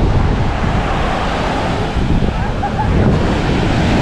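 Ocean waves on Patong Beach in Phuket, a steady loud wash of surf with heavy wind buffeting the microphone, continuous throughout with no clear breaks.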